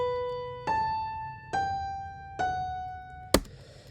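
Single piano notes play the roots of a descending 1-7-6-5 progression. Four clear tones step down one after another, evenly spaced and fairly soft, ending in a sharp click.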